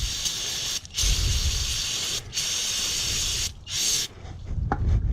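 An aerosol can sprays down a motorcycle rear-set part in close, hissing bursts, three longer blasts separated by short pauses, then a few quicker sputters at the end.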